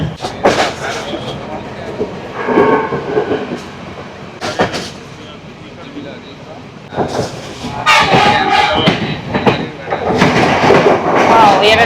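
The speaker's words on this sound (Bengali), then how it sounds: "আর ট্রেন কিন্তু বিশাল স্পিডে চলছে, বিশাল।" A crowded Sri Lanka Railways passenger train runs at high speed, filling the carriage with a loud, continuous roar and rattling surges, while voices talk over the noise.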